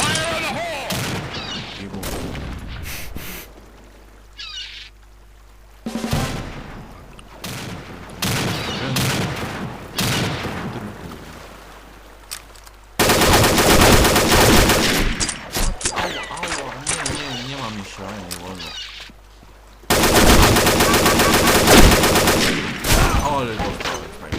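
Bursts of gunfire from the Combat Arms shooter game come in rapid automatic volleys, loud and dense, with long sustained runs in the second half and people talking over some of the shooting.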